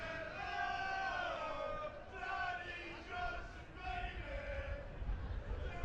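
A rugby league crowd at a Challenge Cup round 3 match between Navy and York Acorn roars and chants in sustained, rising and falling waves, loud and continuous, with sung tones drifting through the mass of voices.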